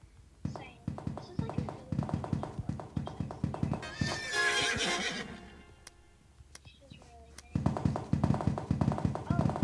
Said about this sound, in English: I'm literally just catching every horse I see.